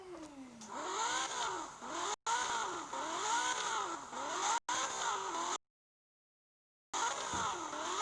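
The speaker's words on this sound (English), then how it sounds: "Does that sound like a V12 Ferrari?" A V12 Ferrari engine plays from a phone sound app, revving repeatedly in rising and falling sweeps, loud and close, with short cutouts and a pause of silence before the revving resumes.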